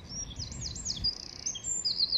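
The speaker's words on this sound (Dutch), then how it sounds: "Hoor die vogeltjes." Small birds chirp and tweet in quick, high, sweeping calls, fairly clear over a soft low background rumble, heard from a boat in a village.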